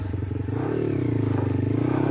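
Small monkey bike ridden along a woodland trail, its engine putting out a steady, close, pulsing buzz with a slight rise in pitch partway through, plus some rattling and clatter.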